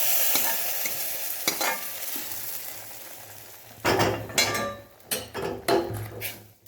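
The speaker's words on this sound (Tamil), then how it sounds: "இதோ பொரியுது பாருங்கள் அவ்வளோதான் பொரிஞ்சு போச்சு" Snake gourd kulambu ingredients fry in a pan with a steady sizzle, then several loud clattering stirs and scrapes of a utensil against the pan, close up and with no speech.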